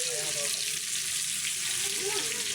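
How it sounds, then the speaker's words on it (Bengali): Fish frying in a pan in a shop kitchen, a steady loud sizzle and hiss filling the whole moment without pause, close to the listener, with no voices over it. "আর আমাদের ওপরে ভাজা হচ্ছে কাটাটা"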